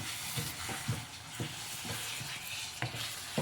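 Chopped tomatoes sizzle in a pan for a mushroom masala gravy while a spoon stirs them, giving a steady frying hiss with soft periodic scraping strokes close by and no talk.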